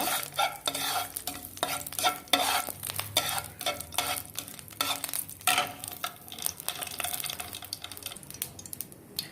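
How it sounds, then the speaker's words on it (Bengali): White cardamom, bay leaf and panch phoron frying in oil for tomato chutney, with steady close sizzling broken by repeated scraping and stirring strokes against the pan, spiky and uneven throughout. "আমি খুব ভালোভাবে এটা তেলে ভেজে নিব।"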